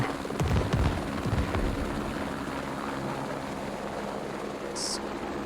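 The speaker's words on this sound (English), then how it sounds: "Helicopter still coming in a little low." A helicopter flies low over a riverside battle in the military shooter game Squad, a steady, loud rotor and engine rumble filling the scene, with a few sharp thumps near the start.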